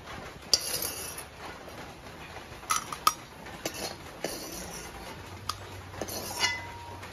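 Cardamom pods dry-roasting in an empty kadai for a milk-and-sugar sweet, giving scattered small metallic clinks and light rattles against the pan over a quiet background, with no talking.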